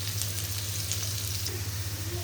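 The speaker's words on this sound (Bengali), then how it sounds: "আলুগুলো হচ্ছে একটু সময় নিয়ে সুন্দর করে লাল লাল করে ভেজে নিব" Potatoes seasoned with salt and turmeric fry in a pan for a cauliflower-potato dish, a steady close sizzle with faint crackle and no talk.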